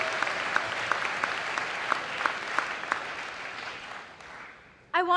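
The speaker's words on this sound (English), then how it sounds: "A round of applause for that awesome move-in video," Audience at a Johns Hopkins convocation applauds, a dense steady patter of many hands that fades toward the end before a voice cuts in.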